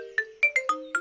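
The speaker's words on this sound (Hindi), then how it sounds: "आपका फोन बज रहा है" A phone ringtone plays a short series of bright, evenly spaced electronic notes, clear and alone in a short film scene.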